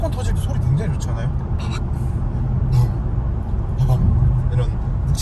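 A BMW M340i Touring with all-wheel drive and M Sport trim drives on a public road, its engine and exhaust giving a steady low rumble beneath a person talking throughout.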